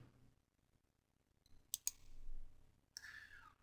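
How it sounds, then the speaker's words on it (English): A computer mouse clicking to select an option in VM migration software, two quick close clicks followed shortly by a softer clicking burst, otherwise near silence. "We're going to click the Migrate option."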